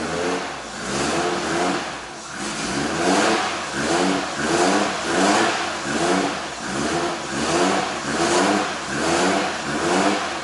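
A Nissan R32 Skyline engine being blipped in steady repeated throttle pulses, each rev rising and falling in an even rhythm, loud and close with no talking over it.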